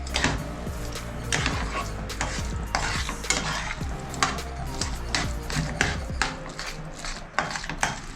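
Jackfruit mixture stirred in a pan, with a steady run of close spoon scrapes and clanks against the metal over a low sizzle, continuous throughout.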